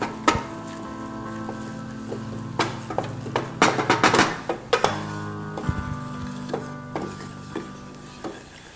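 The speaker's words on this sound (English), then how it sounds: "And just stir it periodically as it cooks" A spoon stirs flour roux cooking in a pan, scraping and clinking against the metal in irregular bursts over a soft steady sizzle, close and fairly loud with no talking.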